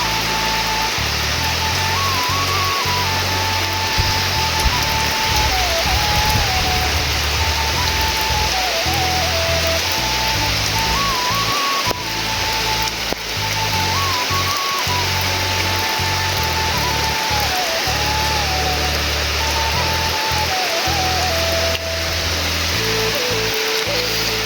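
The first monsoon rain falls in a dense, steady hiss that stays loud and unbroken throughout, under a faint tonal hum.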